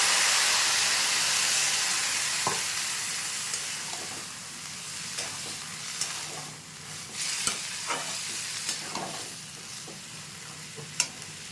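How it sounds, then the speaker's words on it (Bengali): Water poured into chickpea masala frying in a pan sets off a loud, steady hiss of steam and sizzle that slowly fades, with occasional spoon clicks as the mixture is stirred, close up and without talk. "এবার পরিমাণ মতো জল দিয়ে দিচ্ছি।"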